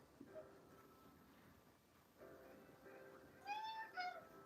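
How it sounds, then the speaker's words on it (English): A pet cat meows indoors, with several rising mews near the end of the clip, moderately loud over a quiet room hum and faint background sound. "Oh, that's my cat."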